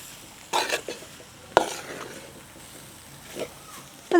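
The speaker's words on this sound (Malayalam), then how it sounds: "എല്ലാം കൂടിയിട്ട് നല്ല രീതിക്കൊന്ന് മിക്സ് ചെയ്യാം." A mixture of grated young jackfruit and potato is stirred in a pan, with intermittent scraping strokes, soft clinks and one sharp knock of the utensil against the pan, separated by quiet gaps.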